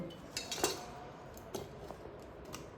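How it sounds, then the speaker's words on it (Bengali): Cut raw mango pieces tumble into a glass jar, giving a few light clinks and knocks close by: a cluster early on, then scattered single taps, all over a quiet room. "এরপর কেটে রাখা আমগুলো সবকটা আমি জারের মধ্যে দিয়ে দেব।"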